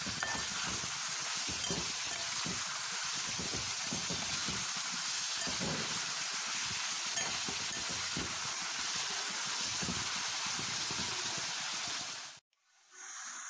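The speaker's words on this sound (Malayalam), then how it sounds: "നന്നായിട്ട് വഴറ്റിയെടുക്കുക." Onions sautéing in a pan with turmeric and salt for Kerala mutton roast, a dense continuous hiss and sizzle with faint stirring, close and steady, cutting off near the end.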